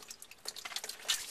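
Water dripping from a cut 3/4-inch plumbing pipe at a washing machine hookup, a quick run of close, irregular drips and trickles.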